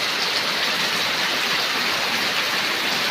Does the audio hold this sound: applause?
no